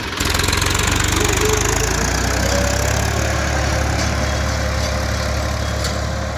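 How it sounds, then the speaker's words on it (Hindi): Massey Ferguson 241 4WD tractor pulling a 13-tine cultivator, its diesel engine chugging steadily and loudly close by with a low knocking rumble throughout, no talk. "441 ट्रैक्टर है, फोर व्हील ड्राइव,"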